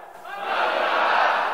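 A school audience at an SMK BISA showcase event shouts the Astra Mengajar slogan together, a brief crowd chant that swells quickly and holds loud for about a second.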